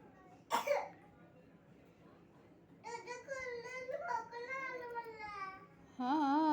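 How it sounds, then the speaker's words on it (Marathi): A young child gives one sharp, close cough, followed after a pause by the child's soft babbling and whimpering vocal sounds. "खोकला आला?"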